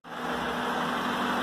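A 1998 Honda Civic engine, just repaired after cooling-system trouble and a stripped-thread fix, fires up and settles into a steady, smooth idle with an even mid-pitched hum and no knocking, close and alone.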